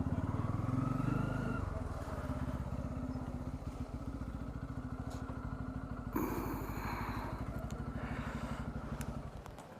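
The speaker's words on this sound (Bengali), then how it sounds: "চলো বাইকটা পার্কিং করি।" A motorcycle is ridden slowly toward a parking area at a tourist spot in Pelling, West Sikkim, its close engine putting and rumbling steadily with some clatter and brief faint background sounds.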